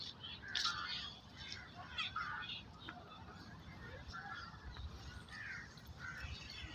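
A crow caws in short, scattered calls from a middle distance over steady outdoor background noise near a pond, with a person talking softly through it.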